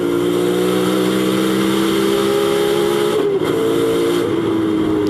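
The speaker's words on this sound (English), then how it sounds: "So it really does sound like a real nasty like roar in that car." A rear-wheel-drive race car roars down the straight at Silverstone during a Racing Thunder Championship raceday, its engine loud, steady and close, with a brief dip near the end and no talking.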